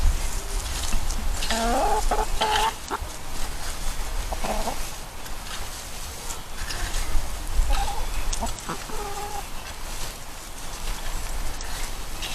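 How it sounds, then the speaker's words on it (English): Several chickens clucking and a rooster calling intermittently outdoors over a low rumbling background, with scattered short calls throughout. "Oh, the chickens are eating them, so that's good."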